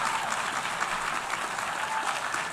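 A crowd claps continuously in a recorded speech played back on a talk radio show, a dense, even wave of applause heard somewhat muffled and distant, lasting a couple of seconds with no talking over it.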